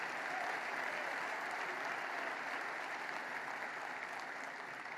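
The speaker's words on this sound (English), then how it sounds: "She got the biggest ovation of anybody in the place, including me." A crowd at a police academy event gives a long, steady round of applause, dense clapping filling the room without a break and heard alone at moderate distance.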